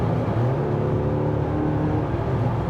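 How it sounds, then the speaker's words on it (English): A 2024 Mazda CX-90 plug-in hybrid engine in normal drive mode hums at a steady, moderate drone, low and even, with a faint whirring undertone and no sharp revving. "you can still hear the engine, but it is not as aggressive"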